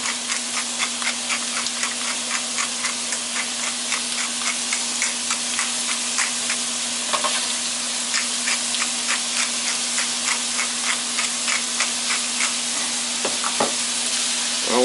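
Sweet potato home fries sizzle steadily in a pan while a utensil scrapes and stirs them in a regular rhythm of short, repeated strokes, close and clear with no talking.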